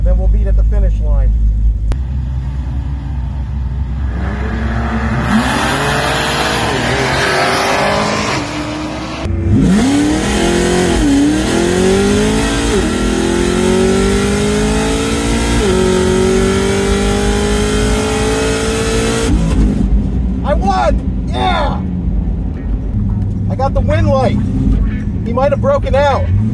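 A Cadillac ATS-V and a race car launch at a drag strip, engines revving hard and accelerating away with a long rising roar, while a voice talks over the noise.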